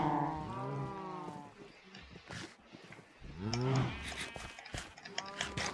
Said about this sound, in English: Mass cow breeder in action.